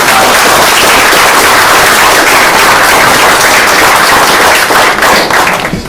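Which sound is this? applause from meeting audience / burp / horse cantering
applause from meeting audience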